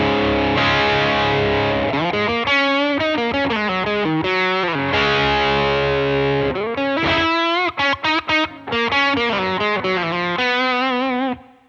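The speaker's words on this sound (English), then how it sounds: "just use the bridge pickup and roll off the tone a little bit" An electric guitar through a Seymour Duncan Saturday Night Special bridge pickup plays distorted chords and riffs, the tone gradually rolled off so the sound darkens. It is loud and driving, with brief stops between phrases.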